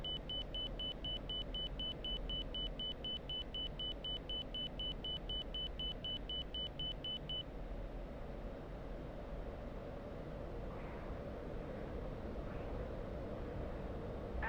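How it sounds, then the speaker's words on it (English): F-16 jet engine at full afterburner in the DCS flight game, a steady deep roar that stays constant throughout, with a repeating cockpit warning beep over the first half. "Afterburner on, full throttle."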